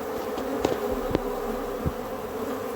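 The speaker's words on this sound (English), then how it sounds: "So the bees having a whole whale of a time right here" Bees buzz in a steady, close drone at a feeding hole, with a few sharp clicks and bumps breaking through and no one speaking.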